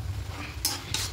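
Spatula stirring cabbage and potatoes in a pan, two short bright scraping strokes over a steady low sizzle, close and clear with no talk.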